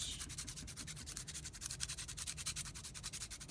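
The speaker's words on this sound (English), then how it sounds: "just slowly go back and forth, rotating it to sand it down" A charcoal stick rubbed back and forth on sandpaper while being rotated, giving a steady, fast rhythmic scratching that stays close, soft and continuous with no voices.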